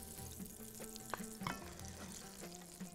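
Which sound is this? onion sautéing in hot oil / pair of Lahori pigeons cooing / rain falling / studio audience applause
onion sautéing in hot oil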